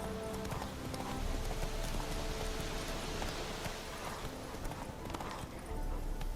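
Roach, a horse in The Witcher 3, gallops with a dense, continuous patter of hooves, steady and moderately quiet, with a faint snort or whinny mixed in.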